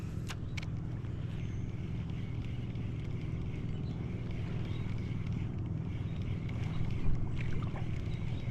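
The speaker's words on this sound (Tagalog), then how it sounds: "Naku, may bangka na naman." A steady low motor drone of a boat running on water, continuous and fairly constant, with a faint rise near the end.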